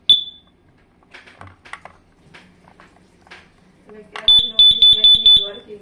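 Carbon monoxide alarm gives one sharp electronic beep, then a quick run of loud, rapid beeps after a pause, with a person talking quietly in between.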